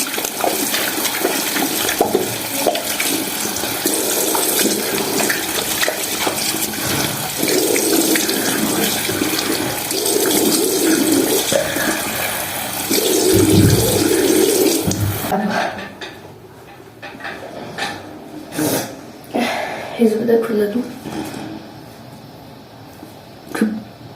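Tap water runs steadily into a sink while a face is washed, a continuous broadband rush that stops partway through, leaving scattered splashes and small handling sounds.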